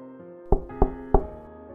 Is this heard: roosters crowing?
no